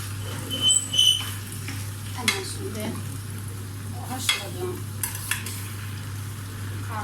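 Mixed vegetables with cauliflower are stirred in a pan with a utensil, producing soft scraping and clinking strokes at irregular intervals over a gentle sizzle and a steady low hum.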